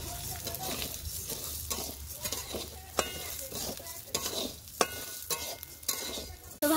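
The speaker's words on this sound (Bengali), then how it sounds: "তো খিচুড়ি বানানোর জন্য মুগ ডাল ভেজে নেবো ভালো করে" Moong dal dry-frying in a pan for khichdi, a continuous close sizzle with repeated scraping strokes of a spatula and a few sharp taps against the pan.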